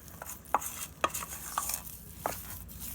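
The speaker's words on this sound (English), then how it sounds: "it'll take a little more mixing than normal, but it's mixing up pretty well" Plant-based cornbread batter of rice flour and cornmeal is mixed in a bowl, giving a steady series of soft spoon taps and scrapes about twice a second over a faint background hum, no talking.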